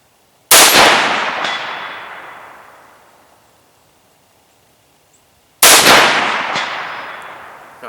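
A 6.5 Grendel deer rifle fires two loud, sharp shots about five seconds apart. Each blast rolls off in a long, fading echo.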